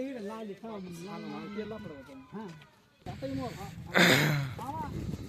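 Goats bleat several times in wavering cries at a goat sale, mixed with people talking nearby, with a brief burst of noisy rustling partway through.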